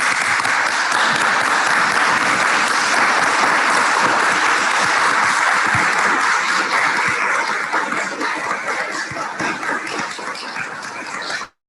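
A lecture audience, on its feet, gives a sustained round of applause: thick, continuous clapping at a constant level that thins slightly near the end before stopping abruptly.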